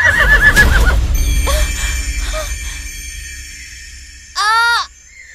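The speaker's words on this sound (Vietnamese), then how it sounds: "Con ngựa của công chúa đây mà." A princess's horse neighs in a forest in a 3D animated Vietnamese folk tale, with a loud whinny at the start and another sharp neigh near the end. Crow-like calls and faint hoof clatter sound in between.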